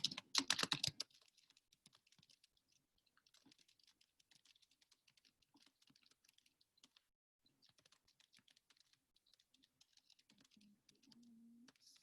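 Typing on a computer keyboard: a sharp burst of loud clacks at the start, then a long run of quieter, irregular key taps with brief pauses, close by and without talk.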